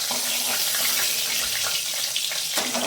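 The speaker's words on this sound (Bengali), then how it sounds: "পটলগুলো লাল লাল করে ভাজা হয়ে গেছে, এইভাবে সবগুলো তুলে নেব।" Pieces of pointed gourd fry in plenty of oil. A loud, dense, continuous hiss holds steady for the whole stretch, with faint clicks underneath and no voices.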